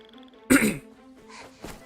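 A single close, forceful throat clear sounds after a quiet start, followed by a softer, shorter second rasp.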